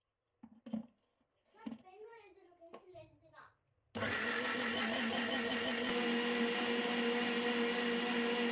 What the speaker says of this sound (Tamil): மிக்ஸி ஜாரில் போட்டு நல்லா ஃபைன் பேஸ்ட்டாக அரைச்சி எடுத்துட்டு